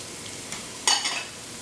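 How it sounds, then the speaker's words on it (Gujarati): Carrots tossed into a pan of frying onions while making Chinese-style rice, a soft background sizzle broken by a brief bright burst as the vegetables hit the hot oil, then settling back. "હવે આપણી ડુંગળી જરાક તરાવા એવી છે તો હું એની અંદર નાખી દઈશ આપણું ગાજર"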